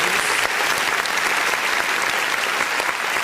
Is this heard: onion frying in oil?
no